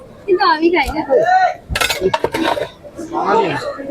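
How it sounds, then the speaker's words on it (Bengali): A metal spatula scrapes and clinks against a pan while food is cut during cooking, several sharp metallic scrapes in a cluster near the middle, with people talking before and after. "কাটে দে না, খুন্তি দিয়ে কাটে দে"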